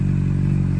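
A motorcycle engine idles in a steady, loud, even drone close by, carrying a pug dog along as a passenger, with no voices over it.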